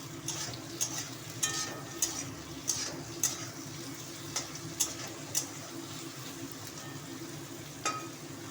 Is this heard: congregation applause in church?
no